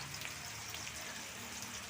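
Onions sizzling and frying in a pan for Rayalaseema uggani, a soft, steady crackle close by with no talk.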